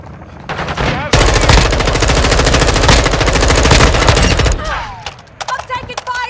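Sustained loud machine-gun fire in Call of Duty Modern Warfare II, a rapid continuous burst lasting several seconds, followed by a few shorter scattered shots.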